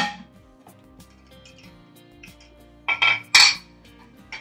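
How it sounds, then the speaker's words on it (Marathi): A hot pressure cooker being opened, quiet at first, then loud metallic clanks and scrapes of the lid and pot near the end, no voices. "आता कुकर छान गरम झालाय, आपण याला उघडूया"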